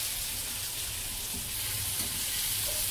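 Brinjal curry sizzling in a hot pan, a steady close hiss with faint stirring, no voices.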